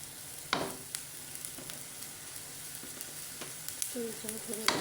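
Spices and chili powder for a desi chicken bhuna sizzle in a pan, quietly and steadily, as a spoon scrapes and stirs through them now and then, with no talking.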